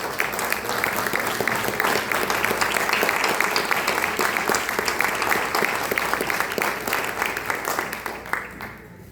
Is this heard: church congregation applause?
yes